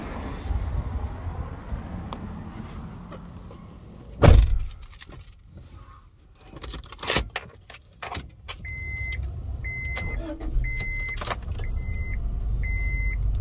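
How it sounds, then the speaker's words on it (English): A 1997 Honda Odyssey all-wheel drive minivan with pop top gets ready to drive off: keys jangle, a door thumps, a power window whirs and a short run of beeps repeats, all over a low idling engine hum, with no speech. "let's take this 97 Honda Odyssey all-wheel drive field deck"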